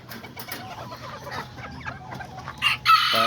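Roosters and hens in a backyard flock, including a blackface Azteca rooster, cluck steadily close by before a loud rooster crow bursts in near the end.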